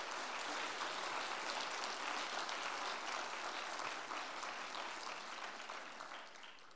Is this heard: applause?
yes